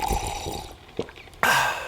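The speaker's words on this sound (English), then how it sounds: "That's not just the sound of that first sip of Morning Joe." Someone takes a short slurping sip of morning coffee, followed by a soft gulp and a faint clink, then a brief burst of airy noise, all close and quiet.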